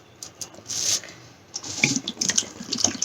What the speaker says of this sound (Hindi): 6 ग्लास पानी हम डाल देंगे।